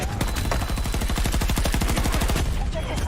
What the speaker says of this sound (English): Especially when there's people outside shooting at it.